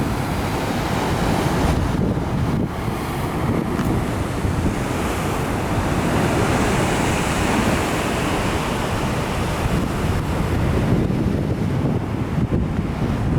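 Sea waves roll in at the shore in a continuous loud roar, with gusting wind buffeting the microphone throughout and no one speaking.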